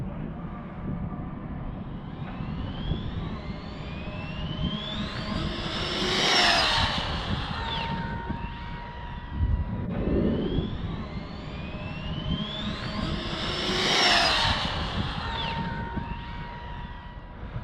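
An Arrma RC car at full throttle on a speed run passes by twice, its high-pitched motor whine rising in pitch and volume as it approaches and falling away, over steady outdoor background noise.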